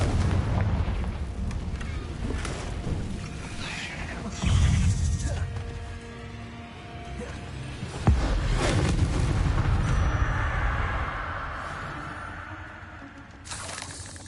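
Loud blasting spell explosions from the Hogwarts Legacy video game, with heavy booming impacts near 4.5 and 8 seconds over a continuous rumbling, crackling background of game effects.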